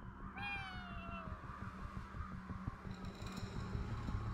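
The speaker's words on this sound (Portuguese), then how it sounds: "Voz do gatinho!" A cat meows once, a clear rising-then-falling cry, inside the Ghostwire Tokyo game, followed by a steady low rumble of ambient game noise with a faint engine-like drone.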